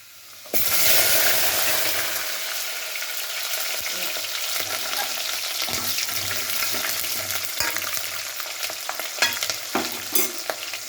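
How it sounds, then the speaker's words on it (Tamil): Garlic and shallots fry in hot oil in a pan for a Tamil vatha kuzhambu, giving a steady, close sizzle with stirring clatter throughout and no talk. "பூண்டு போடவும் சின்ன வெங்காயம்"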